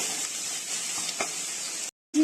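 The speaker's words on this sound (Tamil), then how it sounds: "இந்த எண்ணெயிலே நல்லா வதக்கிக்கலாம்." Crushed garlic sautés in hot oil for a spicy crab curry, a steady close sizzle with a few stirring scrapes, cutting out briefly near the end before returning.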